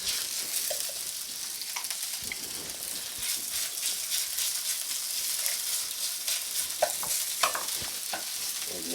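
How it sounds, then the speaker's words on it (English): Italian sausage browns in a pan with steady close sizzling, while a spoon scrapes and clunks through it, breaking up the meat in irregular strokes. "as it's cooking, you want to kind of break the Italian sausage up because it's kind of clunking together"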